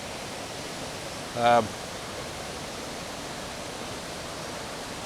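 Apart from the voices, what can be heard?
twin waterfall pouring into a pool in Devon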